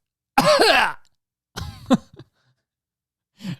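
A person imitates a child's harsh coughing: one long rough cough burst, then a second shorter one, and a brief final cough trailing off.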